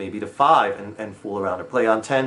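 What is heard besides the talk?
No everyday noises stand out.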